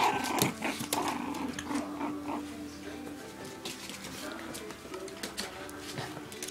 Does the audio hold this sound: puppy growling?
yes